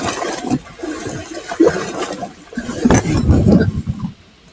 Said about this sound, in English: It's a lot of waves.